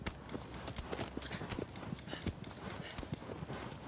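Rapid, irregular hoofbeats of a horse in the video game Shadow of the Colossus, close and fairly loud, clattering over a grainy ambient bed while a voice talks intermittently over them.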